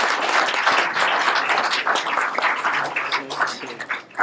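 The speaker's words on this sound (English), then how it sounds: "let's have a round of applause for Frank Corrigo" A dense, continuous round of applause from an audience at a symposium panel for a guest speaker, many hands clapping together steadily for about four seconds and tapering slightly at the end.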